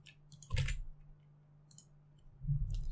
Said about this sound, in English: Let me type my username.